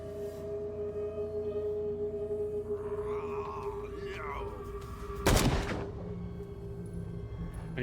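A single sharp gunshot rings out in the Call of Cthulhu video game, a loud burst over a steady electronic hum and low game ambience, with a voice talking nearby.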